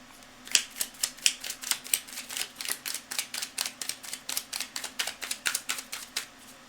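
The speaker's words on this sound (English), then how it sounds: "I'm just going to shuffle it all up because we need to shuffle anyway." Cards from a deck of reading cards shuffled over and over, a fast run of crisp, close riffling taps in a steady rhythm with no talking.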